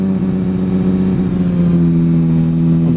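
A tuned Volkswagen 4Motion drag car's engine idles and revs at a quarter-mile airport drag race in Anklam, a loud, close, steady rumble that steps up in pitch partway through and holds there.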